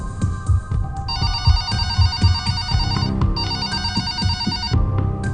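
A telephone rings repeatedly in a police control room, a bright electronic trill that starts, pauses briefly and starts again, loud and steady over a low throbbing pulse, with no voices.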